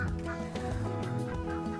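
Peking ducks on a farm calling in a noisy flock, overlapping honking and gobbling cries that run continuously at moderate volume, no talking.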